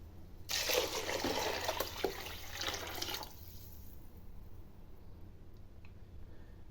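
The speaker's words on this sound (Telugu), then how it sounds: "ఇప్పుడు మనం వాటర్ పోసుకోవాలి" Water pours steadily into a cooking pot for katte pongal, a loud splashing rush lasting about three seconds before it stops and leaves a quiet kitchen.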